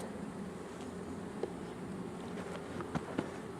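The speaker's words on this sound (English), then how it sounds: "There are a few bees starting to get irritated now." A low, steady buzzing hum of honeybees at an open hive during an inspection, some becoming irritated, close by, with a few faint clicks and knocks scattered over the drone.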